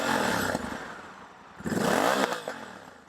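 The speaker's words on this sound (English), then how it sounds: "This is the stock exhaust." A Honda Africa Twin 1100 with dual clutch transmission and stock exhaust idles, then blips into a short rev and settles back, rumbling close by with nobody talking.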